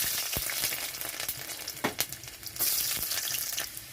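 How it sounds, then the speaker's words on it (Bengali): A steady close sizzle of dried chili and garlic frying in hot oil, broken by several sharp scraping stirs of a spatula against the pan. "তো এখানে লঙ্কা রসুনটা একটু ভাজা হয়ে গেছে"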